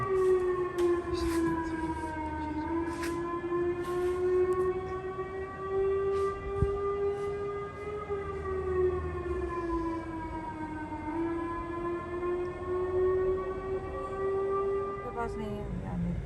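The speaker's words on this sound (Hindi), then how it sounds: "चंगी तरह सुन लिया सायरन ने।" A long pre-dawn sehri siren in Pakistan wails continuously, its steady tone drifting slowly up and down over faint background noise.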